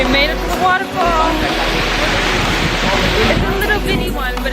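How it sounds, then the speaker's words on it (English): A small waterfall along a trail pours with a steady, loud rushing hiss, close by and unbroken, while faint voices are heard now and then. "We made it to the waterfall."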